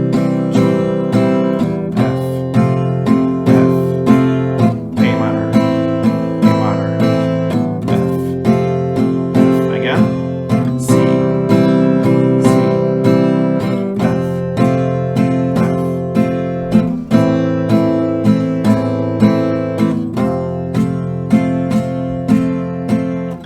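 An acoustic guitar strums a chord progression in a steady three-down-stroke pattern with two rounds per chord, loud, close and unaccompanied.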